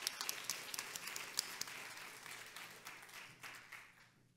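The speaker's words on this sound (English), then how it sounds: "please join me in giving them a huge round of applause" A conference audience gives a round of applause, a faint, dense patter of many hands that starts crisp and gradually tapers off over four seconds.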